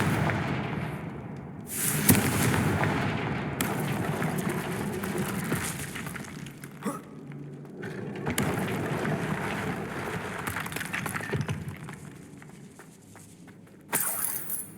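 Confringo fire-spell blasts in the video game Hogwarts Legacy: a string of loud bursts and booms over a rumbling backdrop of game sound, with a sharp blast at the start and another near the end.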